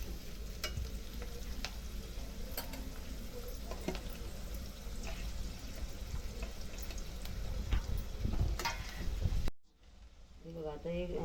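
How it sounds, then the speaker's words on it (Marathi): Chopped onion sautéing in oil in a pan while being stirred, a close, steady sizzle and frying crackle with scraping stir strokes, cutting off near the end as a voice speaks briefly. "कांदा परतून घेते चांगला"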